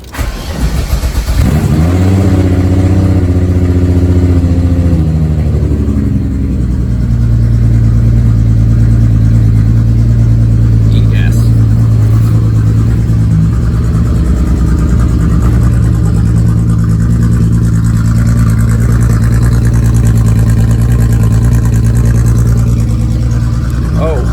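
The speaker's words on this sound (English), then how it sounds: "Anyway, cold start. Headphone users, sorry, not sorry." A Volkswagen Mk3 engine cold-starts with a brief cranking whir that catches into a loud, steady, low idle droning close by for the rest of the time, with no talk over it.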